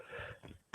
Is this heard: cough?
yes